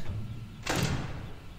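A single quick mechanical door closing in a horror video game, a brief whooshing slam over a low droning background.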